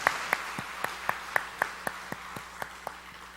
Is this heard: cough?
no